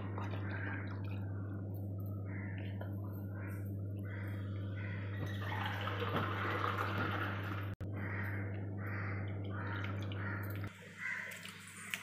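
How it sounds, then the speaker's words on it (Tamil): Half a tumbler of plain water poured into a pot of biryani being cooked, a soft splashing trickle that swells midway over a steady low kitchen hum, then cuts off near the end. "நம்ம 1/2 டம்ளர் பச்சை தண்ணி ஊற்றிக்குவோம்."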